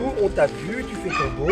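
A small shih tzu dog gives short yips and whimpering barks, close by and mixed with a person talking over them throughout.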